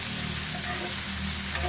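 Tomatoes fry in a pan for homemade masala puri, giving a steady, close, dense sizzle that carries on evenly without pause or talk.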